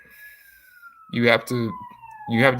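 An emergency vehicle siren from a nearby fire station or ambulance holds a steady, slowly falling wail through the whole stretch, with a voice talking over it in short bursts.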